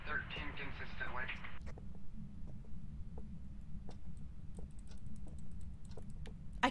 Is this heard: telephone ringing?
no